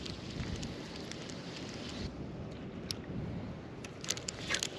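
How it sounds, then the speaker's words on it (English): Strong wind blowing across Tampa Bay water during wade fishing, a faint steady rushing wash with scattered crackly gusts buffeting the microphone. "That wind is still blowing hard."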